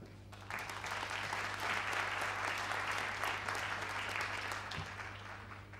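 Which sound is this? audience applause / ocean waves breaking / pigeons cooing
audience applause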